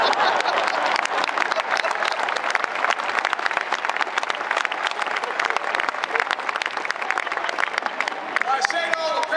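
A large graduation crowd at a naval academy commissioning ceremony bursts into sustained applause and cheering, a dense, loud, continuous roar of clapping that holds steady throughout.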